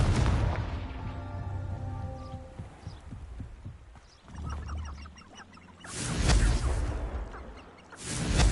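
Confringo fire spell explosions in the Hogwarts Legacy video game: two loud, broad blasts near the end, following quieter game effects and tonal sounds.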